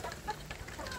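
Free-range village chicks peep and cluck softly in a rearing coop, a few faint, quick calls scattered across a brief moment.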